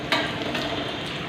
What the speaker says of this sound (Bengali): চাটা রেডি করে রেখে কটা বেগুনি ভাজছি